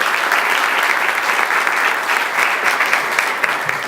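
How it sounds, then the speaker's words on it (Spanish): Strong, steady applause from an audience at a public accountability event, honoring the youngest mayor, sustained and loud throughout with no talk. "para quien solicito un fuerte aplauso"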